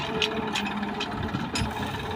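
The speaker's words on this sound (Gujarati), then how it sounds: "તો ગાઈઝ ટ્રેક્ટર આવી ગયો." A tractor engine idles and rumbles steadily on a farm as it arrives, a continuous mid-pitched drone with a few faint bumps and clanks over it.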